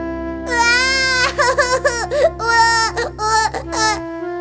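Baby crying from inside a cut-open pumpkin, a loud, close, sustained wailing cry in several rising and falling bursts with a steady low hum beneath.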